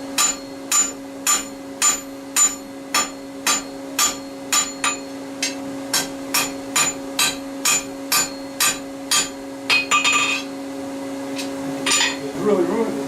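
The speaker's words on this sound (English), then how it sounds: "I'm going to vary my blows a little bit to try and adjust for the thickness of the metal" Steady, evenly spaced hammer blows ring out on a hot steel knife blade at the anvil, about two strikes per second, close and loud, then a brief scraping rush and softer handling noise near the end.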